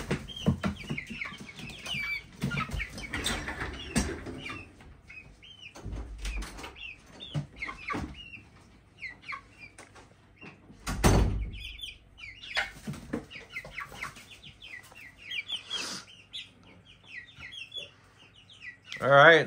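Young feathered-out chicks chirp and cluck steadily throughout, a busy stream of small high calls close by, with occasional thumps and rustles among them.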